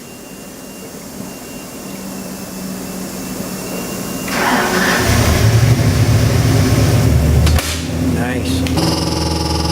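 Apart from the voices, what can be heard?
347 cubic inch small block Ford crate engine idling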